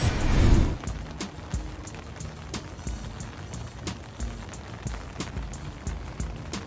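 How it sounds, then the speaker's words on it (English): Light rain falls steadily during the Hurricane Hilary storm in California, a soft even patter of drops with a louder rush at the start, then many small close taps spread across the surface, with no voices. "The rain is minimal."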